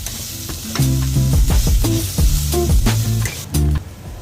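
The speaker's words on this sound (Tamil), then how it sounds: "மசாலாஸ் எல்லாம் ஆயிலில் நல்லா ஃப்ரை ஆகிருக்கு." Ground spices sizzle and fry in hot oil for a Tamil-style tuna roast, with a spoon or spatula stirring through the pan in repeated scraping strokes; loud, close and steady, with no talking.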